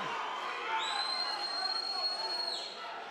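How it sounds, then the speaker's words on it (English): Boxing arena crowd roars and cheers steadily for a fighter in the final minute of round five, a dense, continuous wash of voices with a whistle rising through the middle. "The crowd getting behind Dez."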